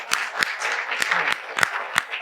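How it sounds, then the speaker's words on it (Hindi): A small crowd at a coaching-class farewell in a decorated classroom gives a short round of applause, with distinct sharp claps standing out over a softer spread of clapping. "एक बार जोरदार तालियां।"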